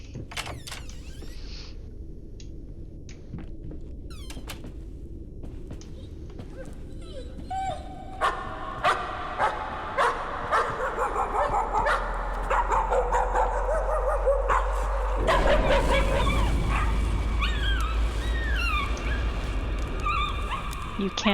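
A dog in the horror game Layers of Fear barks and yips in short repeated bursts that grow louder over a low, eerie drone, with whimpering and a deep rumble toward the end.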